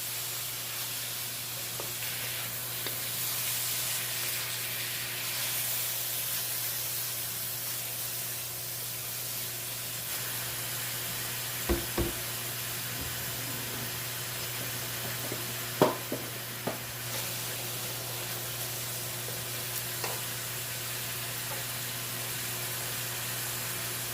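Garlic and cauliflower rice browning in a pan give a steady broad sizzle throughout, with a low constant hum underneath and a few brief clicks and taps from stirring partway through.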